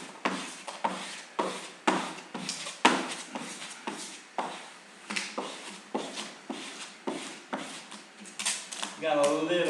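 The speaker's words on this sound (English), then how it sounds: "just squeegee in right on down" A squeegee presses vinyl wrap onto a refrigerator surface, making a series of quick, close, rhythmic rubbing and scraping strokes, about two per second, followed by a brief rustle at the end.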